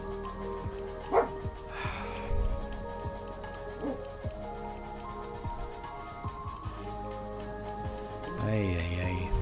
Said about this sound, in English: I can understand why my dogs are barking.